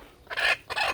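Two bursts of hissy, noisy wingbeats come from a chicken flapping close by, each lasting a fraction of a second, with a short pause between them.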